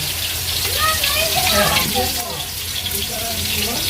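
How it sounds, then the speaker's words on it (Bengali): Water from freshly cooked rice draining through a strainer in a home kitchen, a steady splashing gush, close and fairly loud, while potatoes fry alongside and someone talks over it. "এই যে এর মধ্যে ছাঁকবো ভাতটা"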